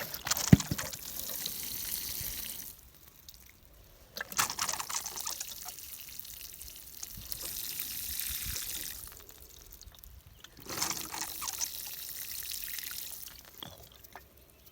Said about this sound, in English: And water her in.